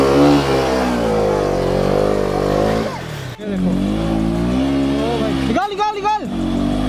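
An RS 200 motorcycle stuck on an off-road track revs hard, its engine droning and surging in rising, falling pitches with a brief cut-out, close and loud while someone shouts encouragement over it.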